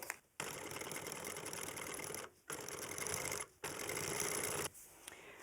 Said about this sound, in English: I'm going to go ahead and stitch starting here at this point and then stitch all the way over to the